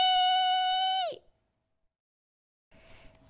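A voice imitates car brakes screeching, holding a long, loud, steady high-pitched "eeee" for about a second before it cuts off. Near silence follows, then faint background noise returns.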